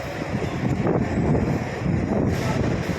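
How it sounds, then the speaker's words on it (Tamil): Strong wind blows outdoors, buffeting the microphone with a rough, gusting roar that swells and eases over a few seconds. "காற்று நல்லா காற்றடிக்குதுங்க"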